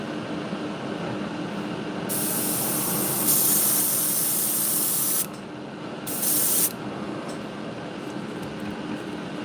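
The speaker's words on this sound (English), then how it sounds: "spray from a distance going towards the back" Airbrush or aerosol paint spray on a Chernobyl 2.5 crankbait fishing lure: a steady loud hiss bursting on for about three seconds, then a shorter second burst, over a constant background rumble.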